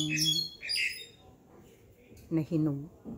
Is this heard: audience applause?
no